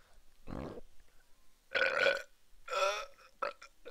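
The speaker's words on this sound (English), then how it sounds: "That's a good burp, right?" A man burps several times in a row, loud and close, with short gaps between the croaky belches and no talk over them.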